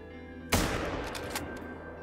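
A single sharp .243 rifle shot fired at a blackbuck in a hunting video game cracks out loudly, then rolls off in a long, fading echo. No one speaks.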